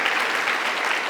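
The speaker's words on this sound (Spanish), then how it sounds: "dele fuerte el aplauso porque a Él celebramos" A brief burst of loud, dense applause from a church congregation celebrating during a sermon, steady and close with no voices over it.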